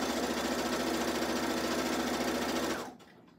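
Sewing machine stitching a scrappy crumb-pieced quilt curtain, running as one steady, loud, even whir for nearly three seconds before stopping abruptly.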